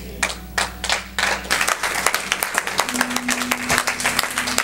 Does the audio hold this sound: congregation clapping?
yes